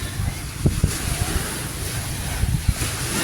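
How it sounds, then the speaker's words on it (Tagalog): Steady wind rushes across a microphone on a seashore, a constant blustery roar with a few low thumps of buffeting and no talking. "dito lang ako sa tabing dalampasigan papahangin"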